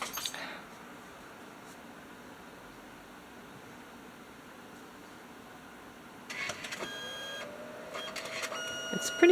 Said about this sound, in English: you can see the whole process of printing one of them